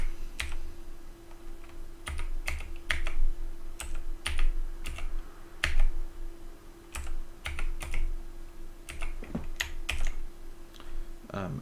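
Keys clack in irregular bursts on a computer keyboard, close and crisp, with a steady faint hum running underneath.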